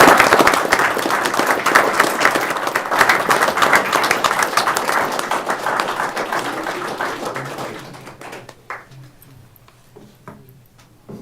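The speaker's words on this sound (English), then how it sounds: "I think they just deserve a huge round of applause for the hard work" Audience applause at a town council meeting, a dense burst of clapping that holds for several seconds, then thins to a few scattered claps and fades out.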